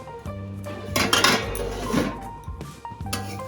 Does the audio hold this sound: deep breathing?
no